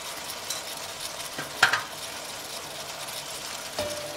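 A beef and veal stew sizzles in a pan while being stirred, a steady soft frying hiss with a few light scraping clicks of the spoon, fairly quiet and close with no voices.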